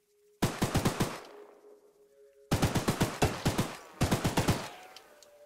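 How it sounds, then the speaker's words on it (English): Guns fire in the video game ChooChoo Charles, three loud, close bursts of rapid automatic shots, each a quick string of about five reports separated by short pauses, with a faint tone ringing between bursts. "Use your action input to fire guns and briefly get jammed from overuse"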